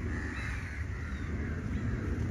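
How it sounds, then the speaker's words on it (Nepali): Crows caw repeatedly at a scenic outdoor spot, their harsh calls moderately distant over a steady low background hum. "त्योतिर कागहरू छ"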